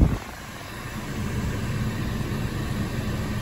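A 5-speed manual car idles with the air conditioning running, giving a steady, loud low rumble and fan hum heard from inside the cabin, with a brief louder onset.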